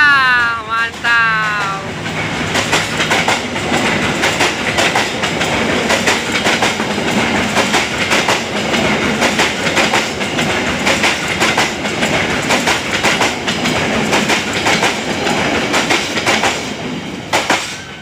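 A KA Lodaya passenger train rolls past nearby in a loud, steady roar, with rhythmic clickety-clack from the wheels on rail joints continuing throughout, and a brief horn-like tone at the start.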